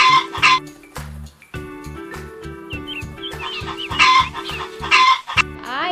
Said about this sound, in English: H is for hen.